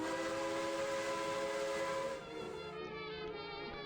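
A steam train whistle in the Minecraft video game blows as one loud, sustained tonal blast, then drops in level and fades into a softer hiss with no talking.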